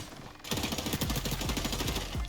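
Rapid automatic gunfire in the shooter game XDefiant, a loud continuous burst of shots starting after a brief quieter moment and running to the end.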